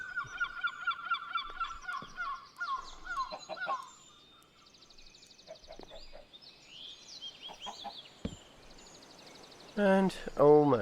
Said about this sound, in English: Oh, hello chickens.